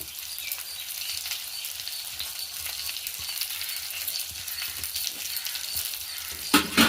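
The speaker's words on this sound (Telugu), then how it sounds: "కారం కొంచెం నూనెలో ఫ్రై చేసుకోవాలి." Shallot chili powder fries in hot oil, giving a steady, close sizzle with fine crackling throughout, a brief louder scrape or stir near the end.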